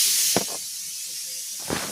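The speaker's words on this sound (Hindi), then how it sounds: "इधर ये कुकर भी सीटी देने लगा है" A pressure cooker whistles on the stove, giving off a loud, steady hiss of escaping steam for the whole stretch, broken by a couple of brief soft knocks.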